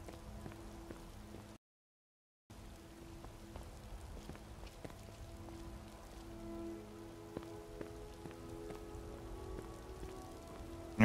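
Rain falls in modded Skyrim Special Edition, a faint steady patter of drops on surfaces with scattered soft ticks, continuous and quiet, briefly cut to silence near the start.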